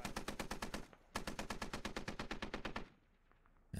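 Rapid automatic gunfire in the military shooter game Squad Ops, loud close bursts of evenly spaced shots, a long burst, a brief pause, then another sustained burst that stops abruptly into quiet near the end.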